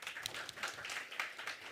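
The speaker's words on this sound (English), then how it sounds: "Please join me in giving a big round of applause to welcome Federica." An audience applauds to welcome a speaker at a global health diplomacy forum: steady, dense clapping throughout, moderately loud with no voices over it.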